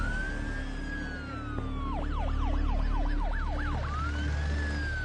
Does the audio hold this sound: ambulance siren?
yes